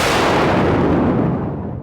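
A single loud, close gunshot bursts out and trails off in a long, rumbling reverberant tail. No voice is heard.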